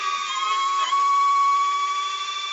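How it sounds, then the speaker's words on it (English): A steady electronic beep tone from the retracts of a Seagull Models AT-6 Texan RC plane, 83 inch span, sounds close and continuous alongside a brief mechanical whir early on. "The beep there to say they're shut and they're locked."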